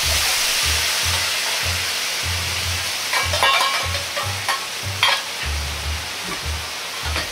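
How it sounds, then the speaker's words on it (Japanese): Steady loud sizzling and bubbling of burdock root cooking down in sauce in a hot pan over high heat, with a few brief clinks partway through. "ここから強火でごぼうにタレを吸わせるようにして煮詰めていきます。"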